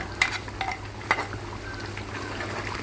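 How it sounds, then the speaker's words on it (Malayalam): A spoon scrapes and stirs through a thick chicken curry with roasted ground coconut paste in a pot, with a few sharp clinks against the metal over a soft background sizzle. "ഇത് നമുക്കതൊന്ന് ഇളക്കി നോക്കാം"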